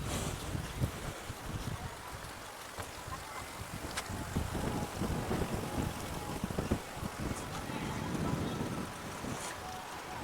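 Steady, loud wind buffeting the microphone in a continuous broadband rush over a lotus field in Kollengode, Palakkad, with no voices present.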